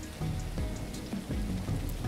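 Rain falls in a fantasy video game cave area, a steady hiss of drops pattering on surfaces with soft low rumbling thumps, continuous and fairly loud.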